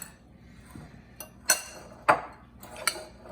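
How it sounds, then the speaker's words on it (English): Preserved lemons and cranberries being stirred in a bowl with a utensil, giving a few sharp, close clinks and scrapes at irregular intervals over a quiet background. "I'm just going to give that a bit of a mix."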